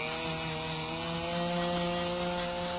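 A Dremel rotary tool running against clothing to distress the edges, a steady high whine with a constant motor hum, close and continuous throughout.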